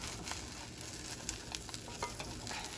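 Eggs fry gently in a pan for a blueberry biscuit breakfast sandwich, a steady soft crackling sizzle with faint pops, heard alone and fairly quiet.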